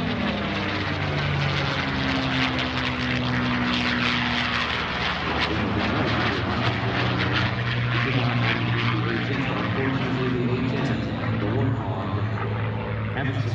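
A P-51D Mustang with its Packard-built Rolls-Royce engine runs loud and steady at an air show at Joint Base Andrews, a continuous propeller drone with shifting tones over the whole stretch.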